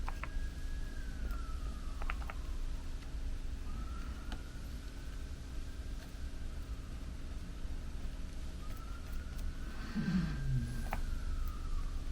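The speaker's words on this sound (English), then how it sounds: "I hear a siren. I think I hear a siren every morning." A distant siren wails in slow rising and falling sweeps, faint beneath a steady background hiss.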